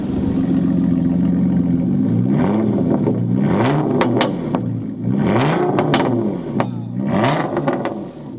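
A supercharged Genesis car revs repeatedly through its exhaust, loud and close, with a steady idle drone between rising and falling revs and a few sharp crackles.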